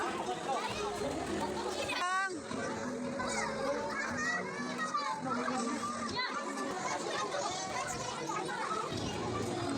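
Children playing in a swimming pool at a resort on a family day, a steady wash of shouting, squealing kid voices and chatter with splashing, loud and continuous throughout.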